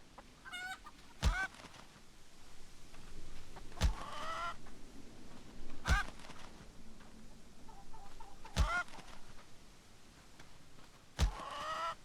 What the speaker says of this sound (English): let's see what happens if you run into the chickens over and over again.